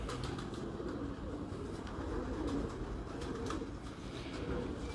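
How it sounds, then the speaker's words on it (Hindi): Pigeons coo softly and continuously against a steady background murmur, with no talk over them. "ये हैं जी आतिफ हमीद साहब, इनके कबूतरों का आपको शौक करवा रहे थे"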